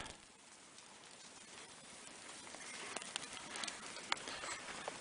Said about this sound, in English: It's been raining since we got here and it doesn't look like it's giving up.